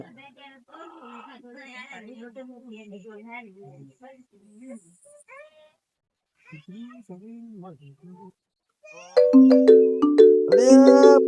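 A mobile phone's loud tonal ringtone cuts in near the end after several seconds of conversational talk, its stepped melodic tones ringing close and clear.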